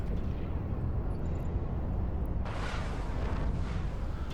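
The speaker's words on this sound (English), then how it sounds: "We do quite a lot of damage with these rockets." Rocket volleys exploding in the space game EVE Online, a constant deep rumbling roar with a brighter, harsher burst swelling in toward the end, loud and continuous without talking.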